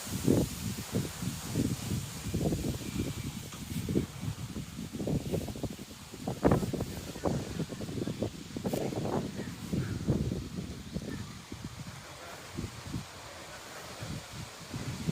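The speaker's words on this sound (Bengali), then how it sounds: "এখন যেভাবে বাতাস চালাইতেছে দেখেন কিভাবে ঢুকতেছে এগুলা।" Wind blowing across a village crop field, a steady gusty rush with rustling and buffeting against the microphone, carrying through the whole stretch with a few louder bursts and no talk.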